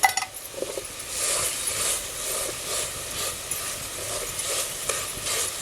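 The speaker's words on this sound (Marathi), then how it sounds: "एक चम्मचभर गोडा मसाला आहे ना तो तेलावर टाकतोय" Goda masala spice mix frying in oil in a pan over a village wood-fired stove, with a steady close sizzle and occasional stirring clinks, no voices.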